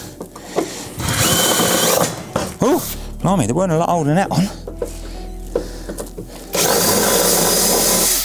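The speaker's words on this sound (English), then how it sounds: "let me drill that out" A power drill whirs in two steady bursts drilling out parts of a Mini Cooper race car seat, one early and one at the end, with people talking close by in between.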